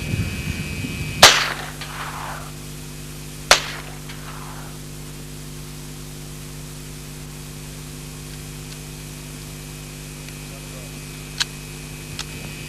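Single semi-automatic shots from a 1977 Alan Halla experimental low-recoil submachine gun firing Israeli ammunition at 100 yards, two loud outdoor cracks a couple of seconds apart with a fainter distant pop later over steady background hum.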